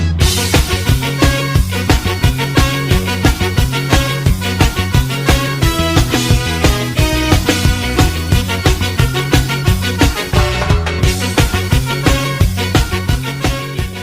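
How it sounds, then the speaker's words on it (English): A loud, dense band track with a driving bass groove, punchy drums and horn lines of saxophone and trumpet plays continuously with a steady rhythmic pulse and no talking. "The bass groove and the horn lines are killer in this."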